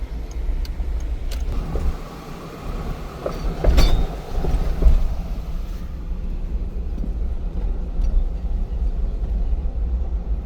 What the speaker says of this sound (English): A lot of trinkets rattling in the back end.